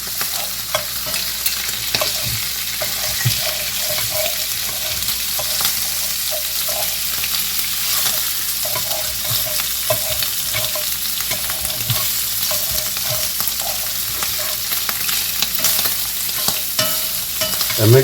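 Sausage pieces browning in a frying pan, a loud continuous sizzle close up, broken by frequent clicks and scrapes as the pieces are stirred and turned, with no speech.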